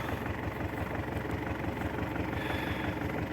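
An MTZ-80 tractor engine drones steadily up close while pulling a plow through a wet field, a heavy low rumble with a rapid chugging pulse throughout, no voices.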